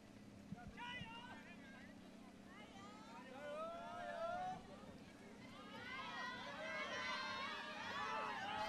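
Roadside crowd at the women's half marathon of the 31st World University Games in Chengdu, shouting and cheering runners on. Scattered calls build into louder, denser cheering toward the end, heard faintly behind a speaking voice.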